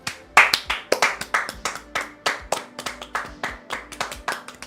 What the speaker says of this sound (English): We scared our little guy from clapping so loud.